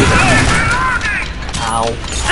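Gunfire in the top-down shooter Alien Swarm, a loud dense clatter of mechanical firing under overlapping voices and game sounds throughout.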